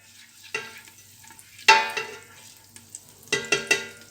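Butter melting in a pot before popcorn kernels go in, with a few sharp stirring scrapes and soft sizzling bursts spread apart against a quiet background.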